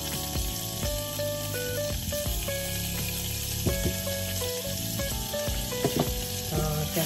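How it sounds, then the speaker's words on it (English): Butter melts in a pan with a steady, close frying sizzle, accompanied by sustained tonal sounds like background music throughout. "Just melt the butter."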